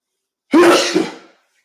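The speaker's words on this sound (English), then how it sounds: "I've been sneezing a lot" One loud, sharp sneeze, a sudden burst that trails off quickly, close and alone in otherwise silent surroundings.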